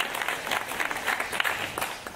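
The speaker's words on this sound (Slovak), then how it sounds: "veľký potlesk ešte raz pre nich" An audience claps at a Slovak podcast awards ceremony, a steady patter of many hands at moderate volume, continuous with no voices over it.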